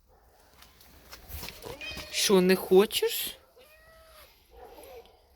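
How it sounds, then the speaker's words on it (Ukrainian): Kittens in a farmyard household give a cluster of loud, close, strained meows in the middle. Soft, quiet talking is heard before and after the meows. "Ось кошенята, бачиш?"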